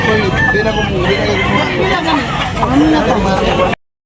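Roosters crow amid the bustle of a chicken market in Tabunok, Talisay, Cebu, with several drawn-out calls rising over constant crowd chatter and someone talking nearby.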